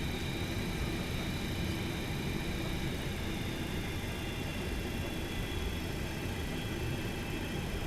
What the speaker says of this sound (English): I love the sounds of this airplane